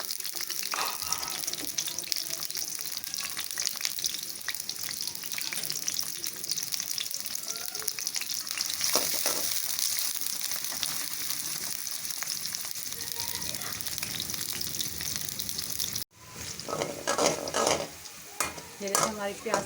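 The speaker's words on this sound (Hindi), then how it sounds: "इसको लाइट ब्राउन करेंगे हम प्याज को।" Two medium-chopped onions frying toward light brown for a khashkhash salan, a dense continuous sizzle with constant stirring scrapes, briefly cut off then resuming louder near the end.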